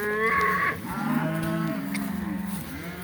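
Cattle on a drive bellow from tall forage in a pasture bottom: two long, deep, close moos, the second drawn out and wavering, with no talk.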